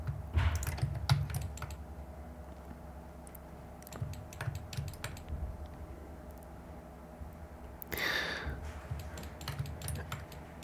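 A computer keyboard is tapped in short, sparse bursts of close, crisp keystrokes with pauses between them, in a quiet room during 3D modeling shortcuts.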